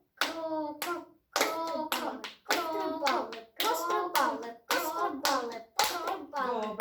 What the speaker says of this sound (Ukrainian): Починай хлопати, але не кажи нічого